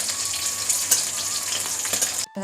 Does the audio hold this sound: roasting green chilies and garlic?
yes